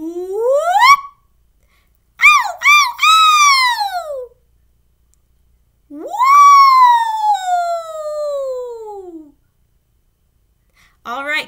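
Voices imitate sirens with rising and falling glides, a leader's swoops followed by others copying in turn, with short pauses between.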